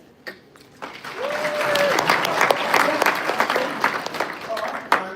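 An audience at an athletics federation conference breaks into applause that swells quickly and holds strong, a thick wash of clapping with a few tonal chirps running through it.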